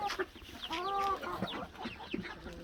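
Hens cluck and chicks peep on a farm, short calls scattered close by with one longer drawn-out call, among other poultry.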